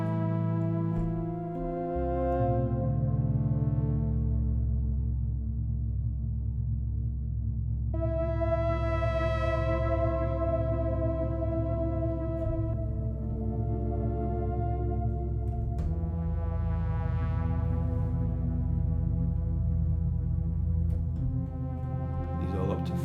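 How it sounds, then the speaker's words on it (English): A Synapse Audio Proxima six-voice analog synthesizer playing sustained, harmonically rich chords through a phaser, the tone sweeping slowly as the chords change, loud and continuous with no other sounds. "for instance, we can put the phaser on"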